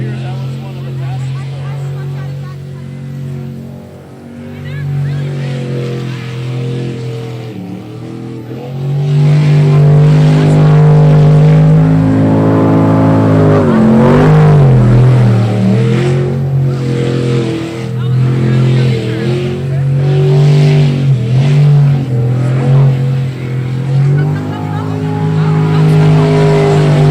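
A roaring Unlimited class sprint boat engine racing through a clean run, loud and rising and falling in pitch as it revs through turns, with a commentator's voice over it.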